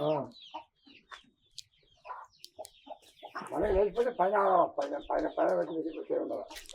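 Free-range country chickens on a farm cluck and murmur while pecking at grain, with soft scattered calls at first and then a denser run of clucking nearby, with people talking in the background.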